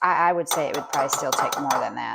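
Kitchen dishes and utensils clatter and bang in a series of sharp, close clinks during orange bread preparation, heard while a person keeps talking.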